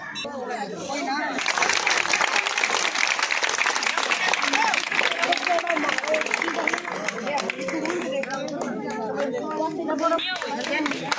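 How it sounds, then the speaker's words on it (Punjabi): A village crowd celebrating a new sarpanch in Kotli, Punjab, applauds with sustained, dense clapping, and close chatter and voices run through it. "ਤਾੜੀਆਂ ਨਾ ਵੀ ਰੁਕਣ ਦਿਓ"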